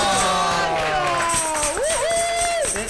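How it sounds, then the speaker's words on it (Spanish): A television morning-show studio audience cheering and applauding after a birthday song, loud whoops and clapping that swell together, with rising and falling voices and music-like tones mixed in. "¡Un aplauso!"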